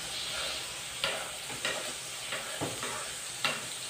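Eggs, sardines and hotdogs stirred and scraped in a frying pan over a steady sizzle, with several sharp scrapes of the utensil against the pan at irregular intervals.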